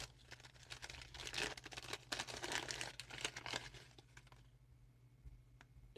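Paper packaging around a Greek 20 drachma coin from 1930 is unwrapped, giving close, dense crinkling and crumpling for several seconds that then eases into quiet rustles with a few light clicks.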